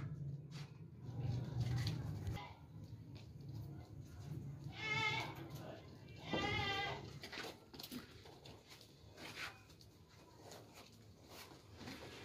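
A pregnant goat on a farm lets out two loud, close bleats a couple of seconds apart over a rumbling outdoor background, with faint voices nearby.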